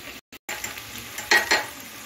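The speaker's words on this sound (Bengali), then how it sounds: "সবজিটা মশলার সাথে একটু ভালো করে কষিয়ে নিচ্ছি" Vegetables stirred and sautéed with spices and cashew paste in a pan, a soft steady sizzle with two louder bursts of stirring near the end, heard close and alone.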